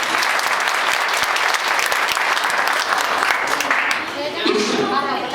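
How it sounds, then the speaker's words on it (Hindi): Sustained, dense applause from a crowd at a farewell ceremony, loud and steady, with a voice beginning to speak as the clapping thins near the end. "हम आप सभी से चाहेंगे कि इसके लिए विशेष रूप से तालियां बजाएं।"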